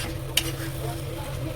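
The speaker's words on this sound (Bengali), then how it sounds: "এবার একটু জল ঢেলে দেবে।" Vegetables frying in a pan sizzle steadily as water is poured in, a soft continuous hiss with a single sharp crackle, fairly quiet and without talk.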